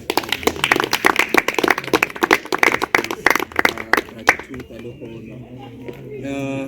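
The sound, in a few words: audience applause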